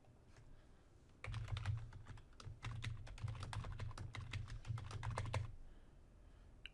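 Computer keyboard typing as login credentials are entered to open a file on a cloud virtual machine, a steady burst of close, rapid key clicks for several seconds with quiet room tone before and after.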